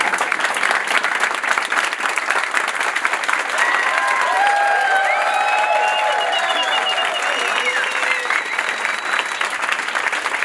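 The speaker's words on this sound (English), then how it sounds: "Let's start the clapping." An audience at a tech talk on Android Architecture components claps loudly and continuously, dense steady applause with faint whistle-like tones drifting through.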